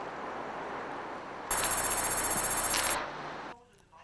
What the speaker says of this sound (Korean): 동네 경찰서 강력 2팀으로 전화가 걸려온 것은 그로부터 꼭 하루가 지나서였다